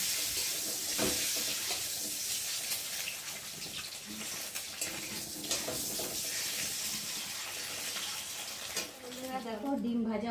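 Salted eggs frying in hot oil in a pan give a continuous close sizzle with occasional spatters and utensil scrapes, and a bubbling, watery crackle rises toward the end.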